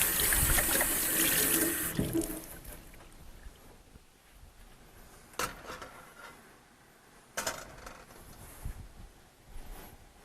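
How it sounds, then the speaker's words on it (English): Kitchen tap running full into a sink for about two seconds during a hand wash, then shutting off, followed by quieter splashes and a few sharp knocks of hands and dishes near the basin. "Just want to give my hands a quick"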